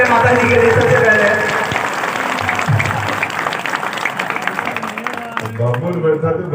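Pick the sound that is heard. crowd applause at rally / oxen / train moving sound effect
crowd applause at rally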